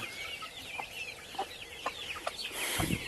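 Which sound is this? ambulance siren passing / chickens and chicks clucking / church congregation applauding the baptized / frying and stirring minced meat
chickens and chicks clucking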